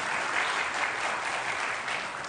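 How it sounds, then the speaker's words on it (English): Sustained audience applause at a 12-and-under semi-final performance, steady dense clapping filling the whole stretch with no break. "round of applause to them also too"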